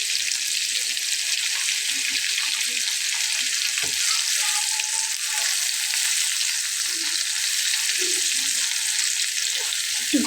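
Hilsa fish coated in ground spice paste frying in a pan, an even, continuous close sizzle with occasional faint turning clinks.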